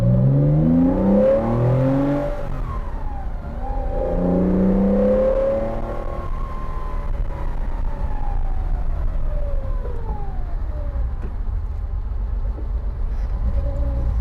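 A Porsche 914-6 with a sticking left front brake caliper creeps forward up a slight hill, its engine note loud and close, droning with pitch that rises and falls in smooth sweeps, and no voices.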